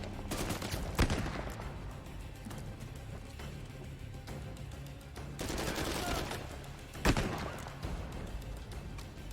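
Revolver fire in Uncharted 4 from a Chiappa Rhino, a few sharp shots standing out over busy in-game combat noise and gunfire, with voices talking throughout.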